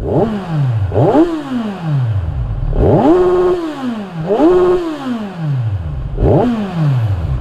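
A nearby Kawasaki Z1000R motorcycle on its stock exhaust is revved hard to high RPM again and again, each rev climbing sharply before dropping back, with a rough, throaty roar between bursts.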